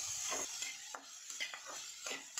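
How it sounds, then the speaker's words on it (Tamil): Vegetables and paneer sauté in a pan with repeated scraping, stirring strokes in a quick rhythm over a light sizzle, close by. "நம்ம வந்து ரொம்ப வதக்கணுன்றது கிடையாது, ஒரு 2 செகண்ட்ஸ் வதக்கினா போதும்"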